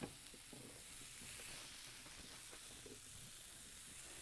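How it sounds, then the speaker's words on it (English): Steady, soft sizzling of food frying on a hibachi grill, a continuous hiss with faint crackles and no talking. "Oh, hear that sizzle."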